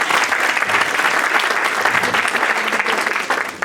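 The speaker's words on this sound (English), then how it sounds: "I think that deserves a round of applause itself." An audience at a medical camp event in a community centre gives a warm round of applause, with dense, close clapping that stays steady throughout.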